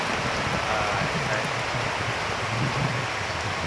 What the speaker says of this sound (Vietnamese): Tiếng mưa